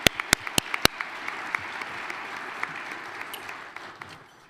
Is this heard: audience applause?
yes